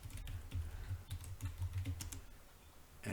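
Steady, close typing on a computer keyboard as a Windows file path is entered, a quick run of light clicking keystrokes with short pauses, no talking.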